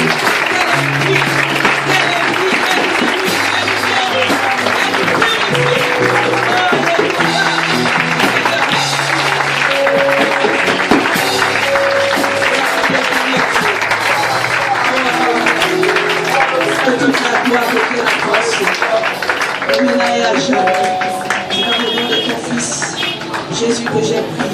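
A church congregation claps loudly and steadily through a worship service, with sustained applause mixed with singing and speaking voices and a musical backing underneath, fading slightly at the very end.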